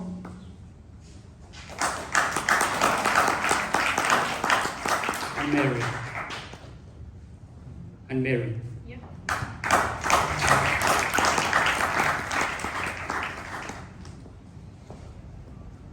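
Audience applause at a Ugandan youth entrepreneurship panel, in two sustained bursts of clapping separated by a brief lull, with a short spoken exchange in between.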